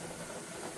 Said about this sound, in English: you can start seeing this steam here, and there'll be some water spattering out of this here